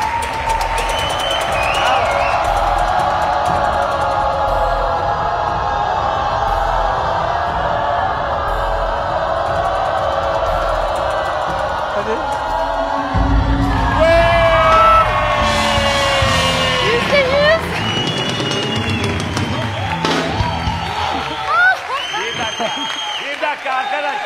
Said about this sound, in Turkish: Alkışlar da geliyor.